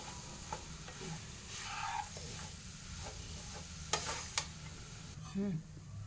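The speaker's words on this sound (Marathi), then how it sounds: "आता याला पण चांगलं असं याच्यात पलटून घ्यायचं, मस्त भाजून घ्यायचं याला।" Grated carrots are flipped and roasted in a pan for carrot barfi, with a soft, steady sizzle and scraping stirs. A few sharper clicks of the utensil against the pan come near the end.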